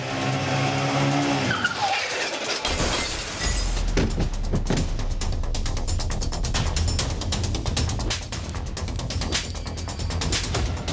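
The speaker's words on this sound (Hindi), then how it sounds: "विपिन की बाइक आउट ऑफ कंट्रोल होकर सुरेश जिंदल की कार से टकरा गई" In a dramatized crime scene, an out-of-control motorbike slams into a car: a loud rush and crunching impact give way to sustained clattering and scraping of debris, loud throughout.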